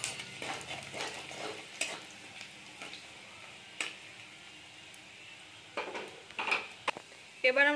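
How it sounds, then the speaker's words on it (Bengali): Chopped garlic sizzles as a tempering in a pan of oil for a dried-fish dish, a soft steady crackle with occasional stirring clinks and scrapes, fairly quiet and close. "এবার দিয়ে দেবো কুচি করে রাখা রসুন ফোড়ন।"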